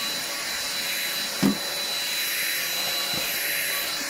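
An Ambiano vacuum cleaner from Aldi runs over a Persian carpet, a steady, loud motor whine with airy suction hiss, close by, with a short thump partway through and no speech.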